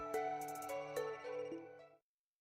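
A telephone rings in the video game Another Code Recollection, a bright electronic melodic tone with quick repeated chirps, playing alone for about two seconds before cutting off.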